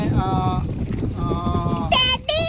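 A boat's engine drones steadily with wind and water noise on a river, while voices speak and sing over it nearby.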